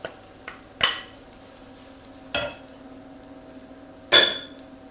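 Mushrooms and mirepoix stirred in a pan for a mushroom bolognese ragu: a few separate scraping clanks of a utensil against the pan, close and fairly loud, with quiet gaps between.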